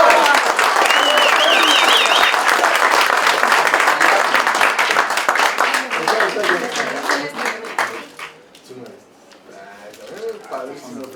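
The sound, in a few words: audience applause at a medal ceremony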